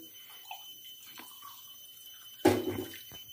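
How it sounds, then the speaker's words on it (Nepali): Water is poured into a tea pan on a gas stove while tea is made with milk, a quiet kitchen with faint clinks, then a sudden louder splashing pour near the end. "गाइज अब चाहिँ म पानी मिसाउँछु"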